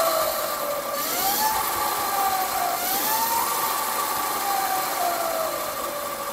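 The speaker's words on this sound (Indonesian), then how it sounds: "suaranya itu suara dari dinamo yang dikombinasikan dengan suara" Steady high-pitched whine of an electric motorcycle motor and chain drive in sport mode, rising and falling in pitch as it revs, continuous and fairly close.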